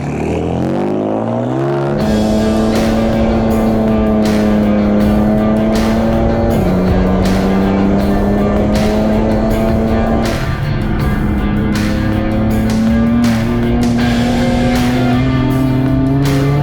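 A racing car on the Road Atlanta circuit, heard from on board, its engine roaring loud and constant as it climbs and drops through the revs across gear changes, with no pause throughout.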